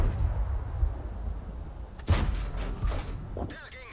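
Tank cannon shot in the video game World of Tanks, a single sharp boom followed by brief mechanical clatter over a low rumbling background.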